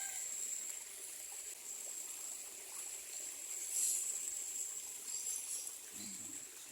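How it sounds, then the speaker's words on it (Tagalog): A pool vacuum runs in cloudy pool water, a faint, steady trickling hiss with a soft watery swell partway through. "Ayan yung vacuum."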